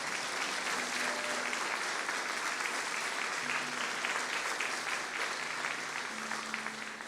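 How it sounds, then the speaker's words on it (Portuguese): A church congregation at a prayer service in Ibaté claps together in sustained, dense applause, with faint tonal sounds like voices or music underneath. "Vamos aplaudir o Senhor e glorificar o seu nome."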